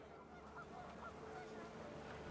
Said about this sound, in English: The wind picked up and geese appeared and quickly went.